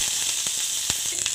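Curry leaves dropped into hot oil with cumin and fenugreek for a Tamil home-style lunch crackle and sizzle sharply, with a few brief pops standing out over a steady frying hiss; no voices.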